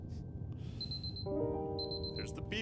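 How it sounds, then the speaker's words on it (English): Steady electronic beeps from the video game Superliminal, thin high-pitched tones sounding a few times at low volume over a quiet background, with a voice briefly present. "There's the beeping again"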